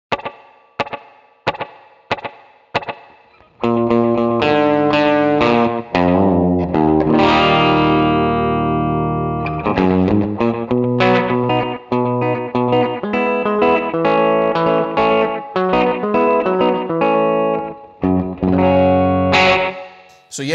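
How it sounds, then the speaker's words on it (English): A Fractal Audio FM9 electric guitar tone with 130 ms slapback delay and spring reverb: a few plucked notes, then sustained, distorted chords and lines ringing out with a short echo and springy reverb tail, alone and loud. "And I've got like a slapback delay on here at 130 milliseconds."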